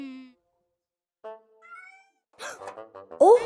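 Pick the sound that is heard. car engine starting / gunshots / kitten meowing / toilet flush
kitten meowing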